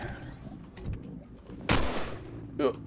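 Gunfire in the video game Empyrion: Galactic Survival: a sharp, loud shot rings out midway with a decaying tail, and a shorter burst follows near the end, while a voice talks faintly underneath.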